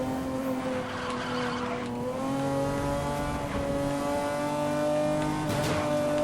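Racing car engine from Need for Speed Most Wanted 2, a McLaren F1, droning steadily with rising and falling harmonic pitch as it accelerates through bends, loud and continuous with no talk.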